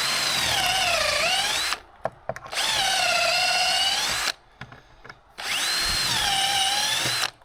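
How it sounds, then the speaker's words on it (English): Power drill boring through wood to fit bolts for a mailbox structure, three sustained whining bursts with pitch sagging under load, separated by brief pauses and clicks, loud and close. "So now I just gotta drill through and bolt these."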